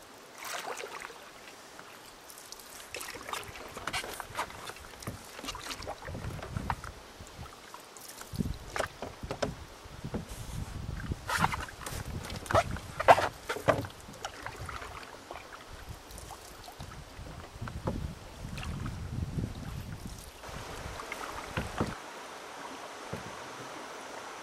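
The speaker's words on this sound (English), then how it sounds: "We'll see if we can paddle through here." Canoe paddling on a lake in Algonquin Park: repeated soft paddle strokes and water swishes, steady and near, with light wind in the background.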